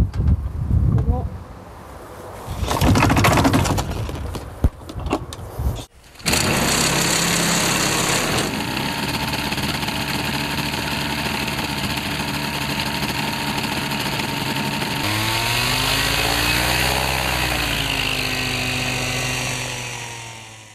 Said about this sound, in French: Pour lancer un moteur à la main,